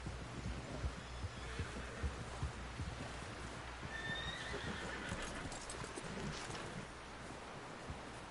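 A horse in the video game Red Dead Redemption 2 clip-clops along in steady hoofbeats, with a brief whinny-like sound partway through over soft game ambience.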